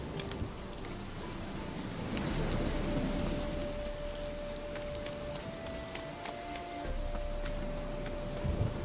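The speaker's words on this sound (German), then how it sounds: "Ich muss jetzt wieder mich durch Regen kämpfen." Steady rain falls in the video game Witcher 3 Hearts of Stone, a soft continuous patter with a faint tonal hum running through the middle of the clip.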